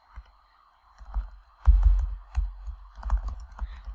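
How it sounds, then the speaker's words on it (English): Typing on a computer keyboard comes through as bursts of quick, uneven clicks and taps, close and fairly quiet, starting after a short pause and growing busier toward the end, with no talking. "Okay, and then just start typing."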